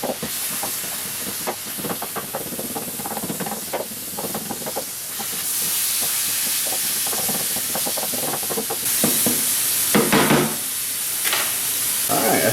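Worcestershire sauce being stirred into a beef stroganoff skillet: steady steamy sizzling hiss with repeated scraping stir strokes close up, louder bursts near the end, no talking.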